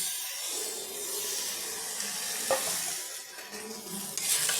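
Grated kohlrabi tipped into frying masala in oil and stirred, a steady broad sizzle with soft scraping strokes and a couple of sharper clinks, fairly close and with no talk.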